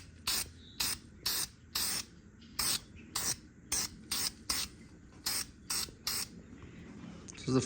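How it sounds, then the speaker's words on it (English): Short hissing bursts of spray primer laid as a first coat on Chrysler SRT engine metal, about fourteen evenly spaced puffs over a quiet background, fairly close. "we're gonna give it the first coat of primer"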